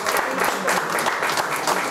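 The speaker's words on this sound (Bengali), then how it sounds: "সবাই হাততালি" An audience applauds steadily at a Durga Puja award ceremony, a dense, loud burst of clapping that fills the whole moment with no break.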